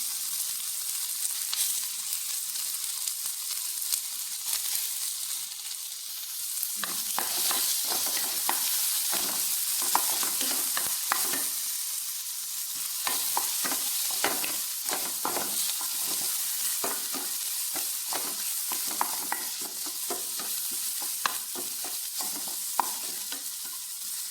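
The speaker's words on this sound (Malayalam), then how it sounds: "ഇനി നമുക്ക് വേണ്ടത് സവാള വെളുത്തി ഇട്ട് കൊടുക്കാം അത് നമ്മൾ മൂപ്പിച്ചെടുക്കാം" Onion and garlic frying in a pan for a chutney, with a steady sizzle throughout and repeated scraping, stirring clatters of a utensil against the pan; no talking.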